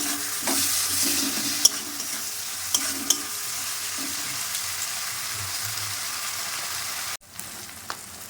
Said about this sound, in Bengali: আদা রসুন পেঁয়াজ বাটা এবার আমি দিয়ে দিলাম, দিয়ে নেড়ে চেড়ে নিলাম।